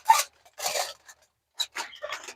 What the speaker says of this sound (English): we're just going to wrap this with aluminum foil. And just seal that baby up.